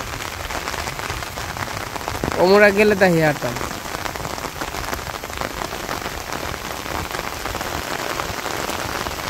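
Rain hisses down continuously over a rural Bangladesh village, loud and even, with someone speaking briefly over the downpour early on.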